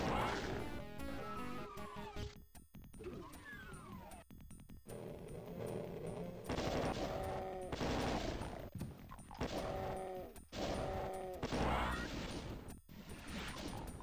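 Gunfire and explosions in the video game Doom, including plasma weapon fire, dense and loud throughout: bursts of rapid shots and crashing impacts, with game tones and effects mixed in.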